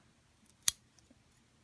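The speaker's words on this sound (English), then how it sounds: "with my pom-pom maker, I'm going to cut right down the middle." A single crisp snip of scissors cutting through yarn on a pom-pom maker, short and close, with near silence before and after.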